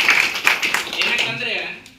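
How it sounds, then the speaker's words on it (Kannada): A village panchayat meeting audience claps in congratulation for officials, staff and members; a continuous wash of applause runs under a voice talking, then fades toward the end. "ಚಪ್ಪಾಳೆ ತಟ್ಟದ ಮೂಲಕ ಒಂದು ಅಭಿನಂದನೆ."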